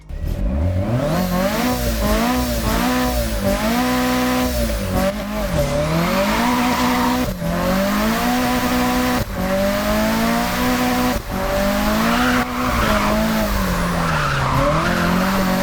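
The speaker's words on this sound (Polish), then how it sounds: "posłuchajmy jak samochód brzmi po tuningu" Tuned car engine in a racing video game, revving hard through repeated gear changes with rising and falling whines, punctuated by long tire squeals and skids, loud and continuous with no voices.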